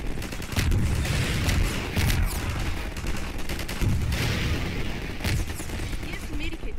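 Gunfire in the Half-Life 2 video game: repeated bursts of shots in several clusters, loud and close, with a busy game backdrop between volleys.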